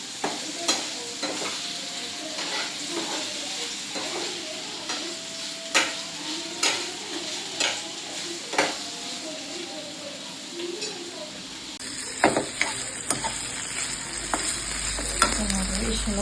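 Food frying in a pan while palak paneer is cooked at home: a soft, continuous sizzle broken by repeated sharp scrapes and clinks of stirring, fairly close, with occasional voices nearby.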